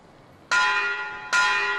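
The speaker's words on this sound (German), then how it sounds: "Glocke" Two loud church bell strikes in the video game Metro Exodus, about a second apart, each ringing out with a bright metallic tone and a long decay, heard on their own with no voices.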